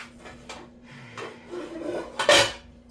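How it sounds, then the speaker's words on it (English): A cooking pot being fetched and set on a stove, with soft scraping and rubbing of metal, light knocks, and a sharper clatter near the end, fairly quiet and close. "I'm gonna get my pot so that I can make the beans"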